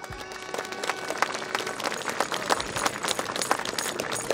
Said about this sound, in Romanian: Felicitări tuturor și haideți să-i aplaudăm!